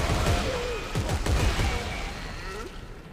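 Gunfire in Dead Space 3 comes as a cluster of quick, punchy shots, loud and close, in a short burst. Voices from players talk over part of it.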